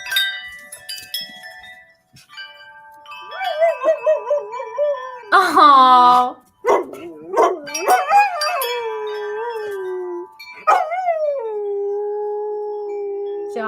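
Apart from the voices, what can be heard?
dog howling along to wind chimes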